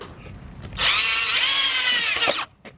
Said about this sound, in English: here we go, drilling the holes